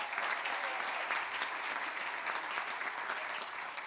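A round of crowd applause at a groundbreaking ceremony for a children's hospital in Wesley Chapel, a continuous, moderately distant patter of many hands, fairly quiet and even throughout.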